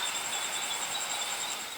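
Train pulling into the platform at Suphan Buri station on the Suphan line in Thailand, a soft, steady rail rumble with a faint high metallic squeal from the wheels, quiet and continuous over a couple of seconds.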